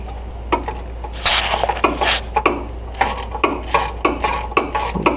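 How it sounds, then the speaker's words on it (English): A socket on an extension turned by hand to thread a starter bolt on a 2000 Ford Mustang 3.8L, close scraping and clicking metal sounds in an irregular rhythm over a low steady hum, no talking. "I'm going to feed my socket in here and turn the extension by hand"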